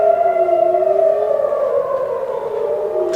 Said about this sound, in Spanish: Lo que están escuchando ahora es una sirena que está absolutamente en todo el